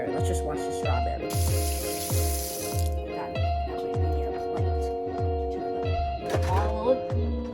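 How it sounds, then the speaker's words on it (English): A kitchen tap runs briefly as strawberries are washed. A close rush of water lasts about a second and a half, over a steady rhythmic musical beat that continues throughout. "Let's just wash the strawberry."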